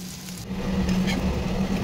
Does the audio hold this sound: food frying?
yes